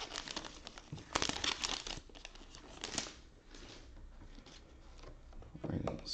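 A trading card pack wrapper crinkles loudly in bursts as it is torn open and handled up close, with a voice speaking faintly at times.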